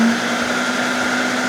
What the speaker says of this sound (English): we're going to watch this thing work. We're going to use the puree function